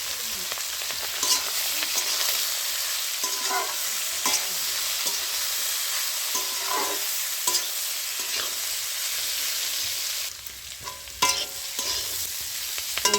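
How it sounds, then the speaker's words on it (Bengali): Boiled cauliflower stalks fry in hot oil with a few spices, a steady crackling sizzle broken by occasional stirring scrapes of a spoon against the pan. "তেলের মধ্যে আমি সিদ্ধ করে রাখা ডাঁটাটা দিয়ে দিচ্ছি।"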